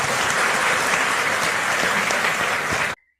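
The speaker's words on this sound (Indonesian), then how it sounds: "kita beri tepuk tangan Bapak" A full, dense round of applause from a gathered audience at a religious study session for Prof. Quraish Shihab, steady and loud before cutting off abruptly.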